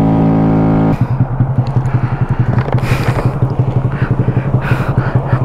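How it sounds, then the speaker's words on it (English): A Honda Grom motorcycle engine drones loud and close while riding, with a steady pulsing exhaust thrum and a couple of rising rev swells. "Cause this bike is so loud. It is just so loud."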